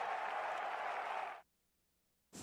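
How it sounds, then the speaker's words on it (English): A crowd at Augusta National applauds a golf win with a steady, dense roar of clapping that stops abruptly, a short silence, then resumes. "McIlroy and the crowd at Augusta National celebrating 11 years of close calls and heartbreaking losses off of his shoulders"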